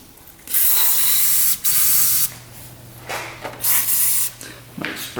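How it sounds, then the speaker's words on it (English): Several sharp hissing bursts from an aerosol can spraying oil onto an old motorcycle, a long spray followed by shorter ones, close up with brief pauses between. "Might spray a little oil down there too."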